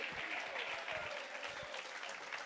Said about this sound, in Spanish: Alguien se atreve a darle palmas al Señor en esta hora